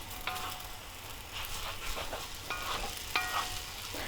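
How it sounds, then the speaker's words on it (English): Noodles fry in sauce in a pan for Indo-Chinese mixed vegetable noodles, giving a steady sizzle with scraping stirs and a few sharp clinks of a utensil against the pan. "See how the noodles are getting fried in the sauce"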